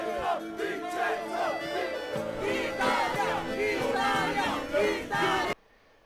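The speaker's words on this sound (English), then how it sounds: "The crowd seems excited." Excited crowd screaming and cheering at the Giro d'Italia in the cycling game PCM 2022, a dense roar of shouting voices that cuts off abruptly near the end.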